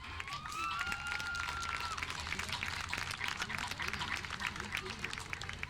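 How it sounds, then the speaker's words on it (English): Applause for parents at a Barron County High School senior night during a football game against Warren East, a broad crowd of clapping and cheering that stays steady and fairly loud throughout, with scattered voices mixed in. "Let's give these parents a round of applause."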